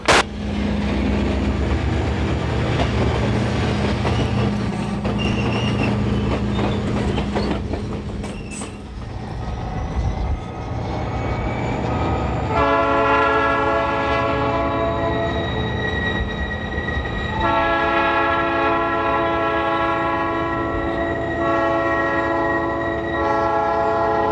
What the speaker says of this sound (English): The northbound tanker train, nicknamed the Ox, has taken the siding